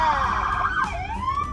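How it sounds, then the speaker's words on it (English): A San Francisco police car siren wails loudly and close by, its pitch rising and then sweeping down into a new cycle, with faint voices in the background. "Go one more, it's a crazy siren"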